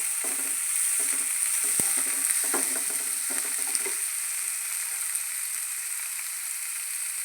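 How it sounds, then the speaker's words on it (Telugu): Onions and carrots fry in a pan, with scraping and stirring for the first few seconds, then a continuous even sizzle alone. "క్యారెట్ కూడా వేసేసుకున్నాం. ఇది కొంచెం బాగా వేయించుకోండి."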